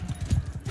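A horse gallops in the medieval combat game Mount & Blade II: Bannerlord, its hooves pounding in a steady, fast, low thudding rhythm that keeps on close and clear for the whole short span.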